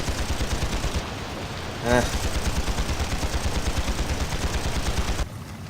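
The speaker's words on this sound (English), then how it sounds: "They've got rapid-fire machine guns as well, in a fancy game." Rapid machine gun fire in the online game Panzar, a dense continuous stream of loud, evenly spaced shots that runs almost the whole time, with a brief rising tonal effect early on and a speaking voice mixed in.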